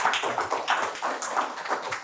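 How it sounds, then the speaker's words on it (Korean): Light applause at an art museum event honouring two speakers, a small audience clapping in uneven bursts, faint and somewhat distant, with no talking over it. "두 분께 다시 한번 박수 부탁드리겠습니다"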